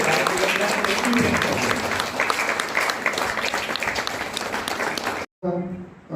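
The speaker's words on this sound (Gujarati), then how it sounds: "અને તાળીઓનો ગડગડાટ તો ચાલુ રહેશે" Applause from an audience at the inauguration of a district-level school innovation festival in Khambhalia, with dense, loud, sustained clapping and crowd noise that cuts off abruptly near the end. A voice is heard over it.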